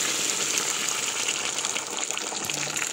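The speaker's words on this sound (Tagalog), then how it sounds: "Tuloy na kasi yung tubig." Water gushing and running steadily for a Filipino home-cooked broth, a continuous close splashing rush with no talk over it.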